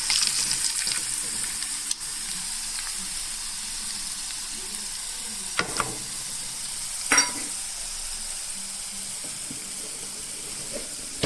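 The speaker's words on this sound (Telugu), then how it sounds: "బాగా బాగా మిక్స్ చేసేసుకున్న తర్వాత నేను త్రీ ఎగ్స్ తీసేసుకుంటున్నాను ఇందులోకి" Three eggs frying in a pan of garlic, chili, onion and green chili masala give a steady, close sizzle throughout, with a few louder spitting crackles and stirring clinks and no talking.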